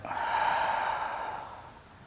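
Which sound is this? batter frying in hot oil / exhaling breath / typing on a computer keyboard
exhaling breath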